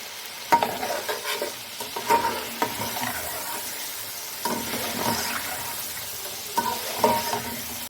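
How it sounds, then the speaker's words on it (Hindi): Chicken frying in a pot for Punjabi biryani, sizzling steadily over high flame while a spoon stirs and scrapes the metal in repeated bursts, close and clear with no voices. "मैंने अच्छे से चिकन भून लिया"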